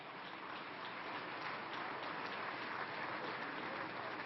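An audience at a hospital inauguration applauds in a dense, even wash of clapping, faint and distant, sustained without break.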